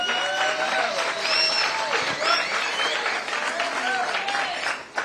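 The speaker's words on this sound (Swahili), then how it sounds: "Now Samson Wawero, kuja hapa, tumpigie makofi." A crowd at a public address in Nairobi applauds steadily for several seconds, clapping mixed with cheers and chatter, fairly close.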